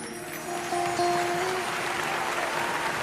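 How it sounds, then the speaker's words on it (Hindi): An audience at a live Hindi storytelling event on Ram in Ahmedabad claps in salute, a broad continuous wash of applause with a sustained tonal hum from the hall's sound system running beneath it. "एक बार उन्हें भी प्रणाम करो अपनी तालियों के साथ"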